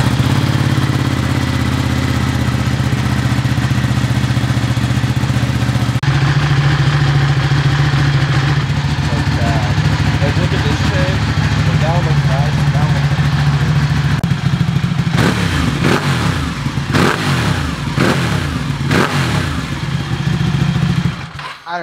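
A BMW 335i engine idles steadily with a low rumbling drone and light mechanical clatter throughout, sounding close by, with a few brief blips and bursts of activity toward the end.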